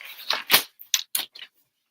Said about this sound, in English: put it in my trimmer. I'm going to just cut down here and here.